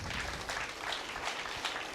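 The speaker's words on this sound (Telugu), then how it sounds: "ఒకసారి గట్టి క్లాప్స్ అండి ఈ నలుగురికి కూడా" Audience applause at a Pyramid meditation celebration event in Kothapet, a steady wash of many hands clapping continuously for about two seconds without talk.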